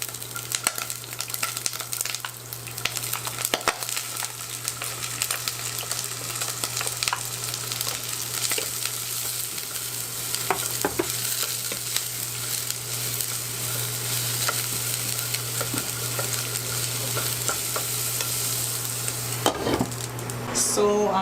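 Garlic sautéing in a little canola oil in a pan, giving a continuous bright sizzle with occasional stirring scrapes, close and steady, with no talk.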